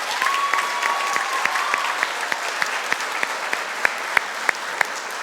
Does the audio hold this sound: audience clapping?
yes